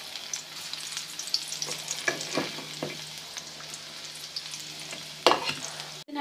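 Garlic sizzling in hot oil for a tadka while making kadhi pakora, a steady close frying hiss with a few scraping stirs and clinks, no talking.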